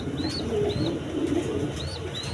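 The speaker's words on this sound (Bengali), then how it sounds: "1 পেয়ার হোয়াইট কালারের আপনার কিং কবুতর আছে" A pair of large white King pigeons coo in low, soft murmurs that run steadily beneath a light, higher chirping, close and moderately loud throughout.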